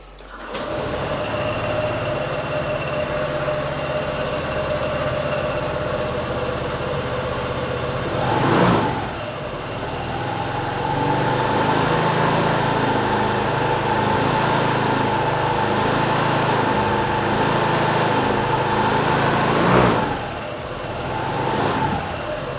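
A Honda SH125 scooter with 11,615 miles starts up and settles into a steady close-up idle: a continuous humming engine drone with two brief swells in revs, and no speech.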